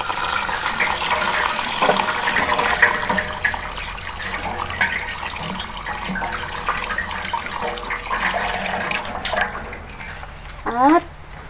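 Tap water runs steadily over a deboned milkfish (bangus) being rinsed in a kitchen, a continuous close splashing hiss with a few faint voices in the background and a short squeaky rise near the end.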